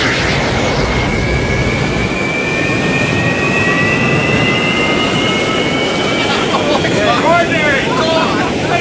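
The jet engine of an Avro Arrow aircraft roars loudly and steadily with its afterburner lit, a dense continuous blast with a rising whine running through it throughout.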